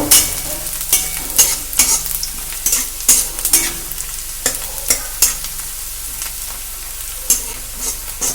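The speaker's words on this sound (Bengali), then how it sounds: "দিয়ে আবার একটু ভাজা ভাজা করে নেব।" Chopped garlic and a whole green chili frying in a pan, a continuous sizzle punctuated by repeated sharp scrapes and clinks of a stirring utensil.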